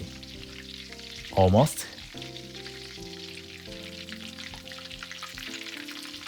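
Menchikatsu minced meat cutlets deep-frying in oil, a steady, close crackle that runs throughout, briefly interrupted by one short spoken word.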